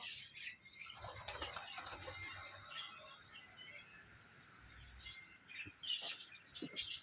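Doves flapping their wings as they fly into a cage, a flurry of quick soft wingbeats with faint chirps scattered through, fairly quiet and close, with brief low voices in the background.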